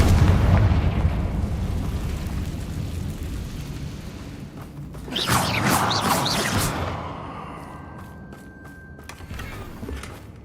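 A Confringo fire spell blast in the video game Hogwarts Legacy bursts out as a loud whooshing, crackling explosion in the middle, trailing off into a fading magical hum and faint clicks after a rumbling ambient start.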